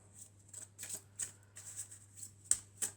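Oracle cards shuffled by hand, a run of quick papery riffles and soft slaps in uneven bursts, close and quiet over a faint low hum, with no talking.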